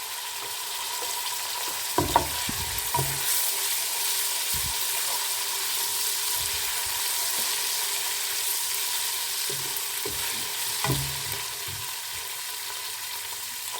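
Garlic ginger paste frying with roasted gram flour in a pan, a steady soft sizzle throughout with a few brief clinks and stirring knocks; no one speaks.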